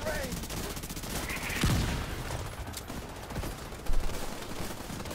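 Rapid bursts of gunfire and booming mortar blasts in The Division 2, dense and continuous with sharp louder impacts, game effects filling the mix.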